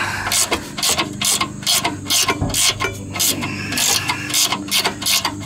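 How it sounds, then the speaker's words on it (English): Ratchet wrench working bolts loose during transmission removal on a 2002 Nissan Xterra 3.3 4x4: loud, close rapid clicking bursts repeating in a steady back-and-forth rhythm with brief pauses between strokes. "this ratchet is a lifesaver"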